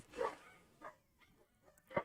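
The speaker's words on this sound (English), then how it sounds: "Do you guys hear the dogs outside?" Dogs bark outside in a few separate muffled bursts, spaced apart and heard at a distance through a window, with no voices over them.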